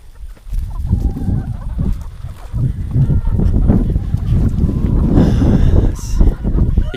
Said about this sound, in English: So now you see how vicious chickens can be